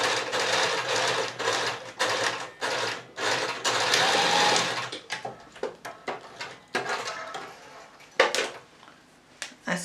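A sewing machine stitches down a box pleat on a skirt, running in a steady close whir for about five seconds, then breaking into short stop-start bursts.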